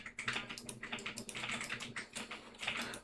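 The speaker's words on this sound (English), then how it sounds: "Type ipconfig/renew and then press enter" Rapid, steady typing on a computer keyboard while entering network reset commands in a Windows command prompt, close and clear with irregular bursts of keystrokes and no voices.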